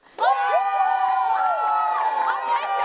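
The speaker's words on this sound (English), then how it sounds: "You guys cheer the loudest for who you think won" An audience cheers and shouts loudly for a contestant in a sports show face-off vote. The crowd noise is dense and sustained, with whoops and children's voices.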